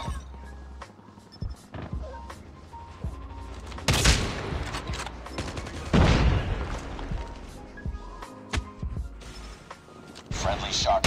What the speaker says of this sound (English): I was spamming the shoot button.